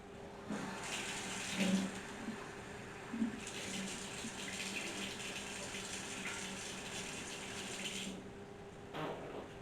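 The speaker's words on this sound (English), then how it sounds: "I'm going to start by bringing my pan over to my sink to get my quarter cup of water." Water runs from a kitchen sink tap into a pan in a steady hissing stream, briefly interrupted, with light clinks of the pan near the start; close and moderately quiet.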